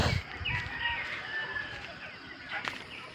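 Chickens at a small backyard farm cluck continuously nearby, with a rooster's crow rising over the flock's chatter.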